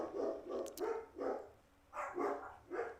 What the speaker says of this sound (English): And the dogs are barking.